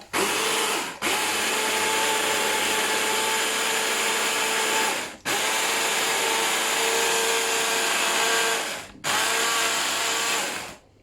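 A blender whirs loudly and close while blending garlic for a lamb curry, running in three long bursts separated by brief pauses, with a steady high motor whine.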